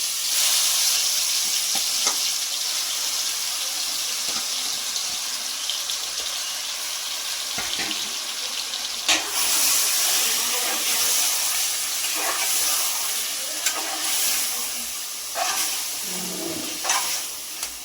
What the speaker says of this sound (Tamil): இப்போ நம்ம பெசரி வச்ச மட்டனை எண்ணெயில் போட்டு நல்லா வதக்கணும்